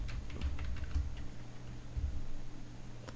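Someone types steadily on a computer keyboard while writing PHP code, a run of quiet, close key clicks at an uneven pace over a low background hum.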